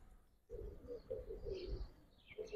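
Giribaz pigeons cooing softly nearby, a short run of low, rolling coos in a steady pulsing rhythm, faint chirps above, no talk.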